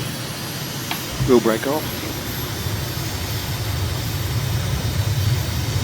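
Jet engine spooling up for takeoff in Microsoft Flight Simulator, a steady rising roar at the start of the runway, with a brief spoken callout early on.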